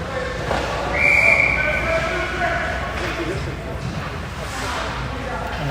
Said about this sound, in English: And the whistle blows here.